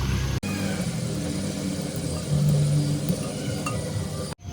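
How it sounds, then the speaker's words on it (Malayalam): Ghee sizzles in a hot pan at the start of a biryani for six, a steady close crackling hiss that holds for several seconds with one brief break and a faint rumble underneath. "ആദ്യം ചൂടായ പാത്രത്തിലേക്ക് നെയ്"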